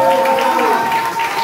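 Brief burst of a church congregation cheering and clapping, crowd voices and hand claps blended together with a prominent voice over the noise.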